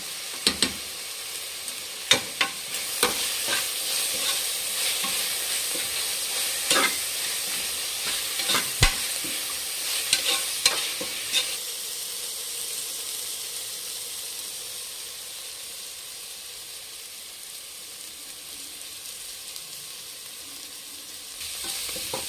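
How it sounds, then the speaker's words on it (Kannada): Fenugreek greens cook in a pan with a steady, moderate sizzle and frequent clicking stirs of a spoon early on, the frying easing to a softer hiss later. "ಫ್ರೆಂಡ್ಸ್ ಸೊಪ್ಪು ಬೇಯ್ತಾ ಇದೆ. ಅರ್ಧ ಭಾಗ ಬೆಂದಿದೆ ಫ್ರೆಂಡ್ಸ್."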